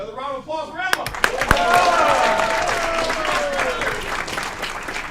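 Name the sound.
round of applause for Emma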